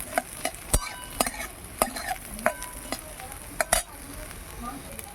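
Spiny gourd (kakrol) pieces frying in oil over lightly fried onions, a soft sizzle underneath a run of sharp spatula scrapes and clinks against the pan, close and fairly quiet.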